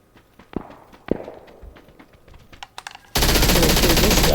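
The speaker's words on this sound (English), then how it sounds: "Somebody's sniping in the field over here." Sniper gunfire in the PUBG video game: a few scattered, fairly distant shot cracks over quiet ambience, then a loud sustained blast of noise for the last second.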